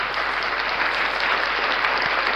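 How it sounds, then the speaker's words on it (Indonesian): Steady applause from a church congregation at a prize announcement for sector winners, dense and even clapping filling the whole moment without pause. "Ya, tepuk tangan."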